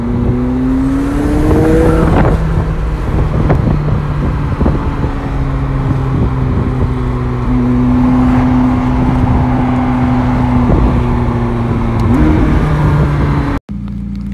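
A McLaren 720S drives fast with its engine droning loud and close, the pitch climbing and shifting between gears before cutting off abruptly near the end.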